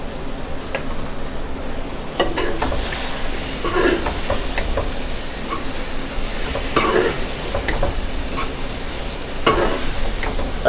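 Soaked, boiled chana dal goes into frying bitter gourd, bringing a steady sizzle with repeated scraping and stirring clicks of a spoon against the pan, close and without talk.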